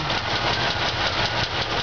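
Old engine of a 1977 Oldsmobile Cutlass Supreme Brougham running slightly shaky, with an exhaust manifold leak, a close, steady, loud idle rumble with a faint uneven pulse throughout the short stretch.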